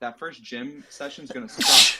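A single sharp sneeze bursts out near the end, right after someone speaks in a close, quiet room.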